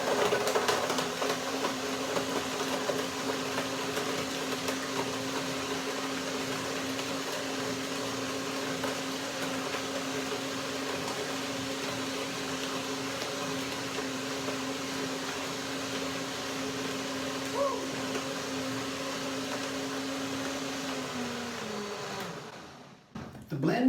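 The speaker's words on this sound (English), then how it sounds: "now I do the first blending, the blender dance" A blender whirs steadily while blending a flaxseed and blueberry smoothie, a loud continuous motor drone with a faint tonal hum. It runs for about twenty-two seconds and then spins down and stops.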